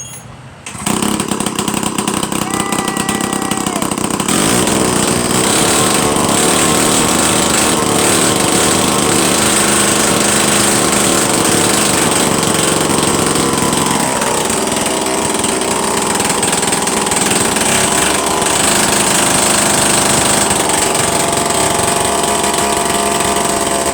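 A 73-year-old David Bradley chainsaw runs loud and close, its two-stroke engine droning steadily with a raspy, uneven idle throughout.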